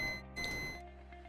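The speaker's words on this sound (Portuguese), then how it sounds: "As ponteiras do multímetro se encostar, ela deu bip." A digital multimeter gives a short electronic continuity beep as its probes touch during a repair of a JGINYUE X99 Titanium D4 motherboard. The tone sounds near and clear over a faint steady hum, with no talking.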